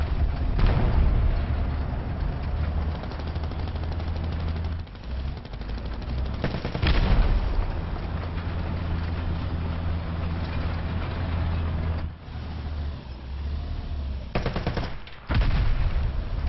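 Rapid machine-gun and cannon fire in the video game War Thunder, long loud sustained bursts over a low engine drone, broken by brief pauses before firing resumes.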